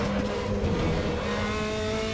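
DTM race car engines in RaceRoom Racing Experience at Hungaroring drone close and loud, a steady high-revving tone with faint pitch shifts and no talk.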